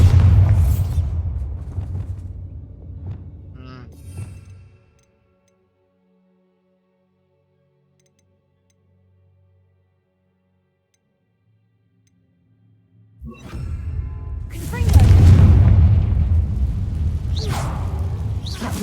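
A Bombarda blasting spell in the video game Hogwarts Legacy sets off a heavy booming blast with a rumbling tail, following an earlier burst that fades into near silence.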